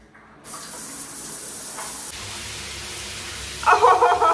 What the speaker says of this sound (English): So, just straight in the shower, I guess.